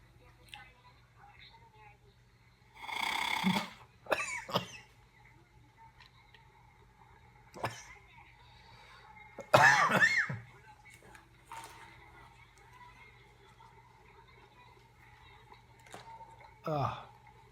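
Coughing while using a breathing exerciser tube, heard as several short, separate bursts of breathy coughs and blows with quiet gaps between them, close and moderately loud.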